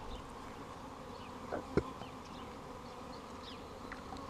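A faint, steady insect hum of bees around a hive, with a couple of brief louder buzzes as individuals pass close.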